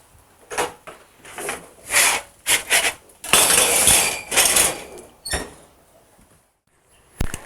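A tray of seasoned food goes into a home oven with a run of close, loud metallic clatters, knocks and thumps in uneven bursts, then a pause and a final clank.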